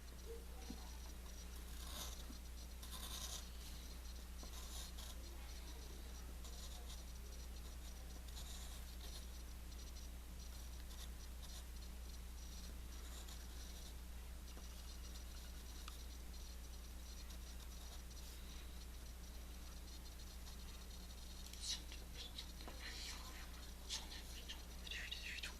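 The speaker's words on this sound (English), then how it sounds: "Next up, you just gotta draw his arm." A pencil draws a Mewtwo on paper, making faint, close scratching strokes that come in short irregular bursts over a low steady hum, with no talking.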